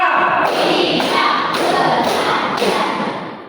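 A room full of students claps in a chant during a Qur'an Hadith lesson, with a loud, dense crowd of palm claps and about five evenly spaced group beats half a second apart, trailing off at the end.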